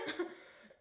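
A single short cough, close and fairly loud, followed by a soft breathy tail and a brief louder sound at the end.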